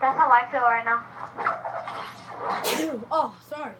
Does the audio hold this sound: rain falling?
no